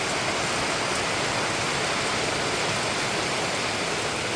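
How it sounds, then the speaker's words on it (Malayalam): Heavy rain falling outside a house, a dense continuous hiss that stays loud and even for a few seconds, with no talk. "വെളിയിലോട്ട് നോക്കിയപ്പോൾ നല്ല മഴ"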